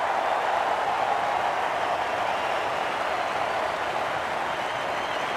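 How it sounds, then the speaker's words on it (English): A large crowd at the Sydney Cricket Ground roars and applauds steadily during a 1996 New Year's Day one-day international between Australia and the West Indies, a dense, even wash of distant cheering with no breaks. "And suddenly the crowd is very vociferous. But they've got something to cheer about now."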